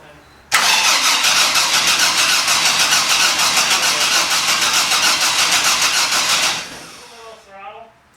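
A Vortec 4200 engine in a Fairmont Futura cranks loudly and steadily for about six seconds with a rapid rhythmic starter whir, catching briefly without firing up, then stops as voices talk afterward.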